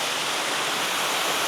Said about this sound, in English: I hope you can hear me because I'm at the base of a waterfall